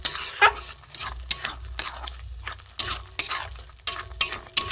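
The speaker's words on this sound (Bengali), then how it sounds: "নাড়বো, একদম শুকনো করবো বন্ধুরা, নেড়ে নেড়ে রান্না করে করে একদম শুকনো মতো হবে" Cauliflower leaf paste with a little turmeric is stirred in a pan as it cooks down dry. A spoon scrapes in a repeated rhythm of bursts with metallic clinks against the pan, under a soft sizzle and with no voice.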